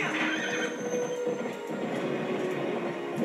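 In the video game Zelda Twilight Princess, a horse whinnies over galloping hooves during a storm, a dense, continuous rush of game sound with no voice over it.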